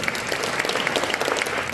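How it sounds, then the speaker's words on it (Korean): Brief burst of audience applause at a church worship service celebrating a Korean gospel radio station's anniversary, dense clapping filling the room for under two seconds. "박수로 환영해 주시면 감사하겠습니다."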